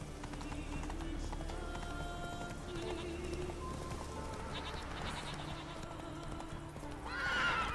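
Horse Roach in The Witcher 3 video game, hooves clip-clopping under game music and ambience, with a neighing whinny rising near the end; someone speaks briefly.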